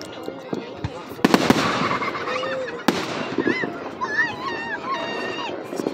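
Fourth of July fireworks crackle and pop in the distance, with a couple of sharper bangs and whistling streaks, while people chat nearby over the show.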